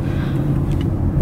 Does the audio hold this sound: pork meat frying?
no